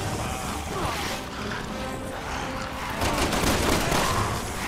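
Rapid, continuous gunfire from Resident Evil 6 fills the whole stretch: dense overlapping shots and impacts with no pause, swelling slightly louder toward the end.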